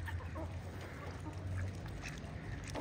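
Faint, muffled quacks from several ducks come in short bursts over a steady low hum and gentle water-side background noise.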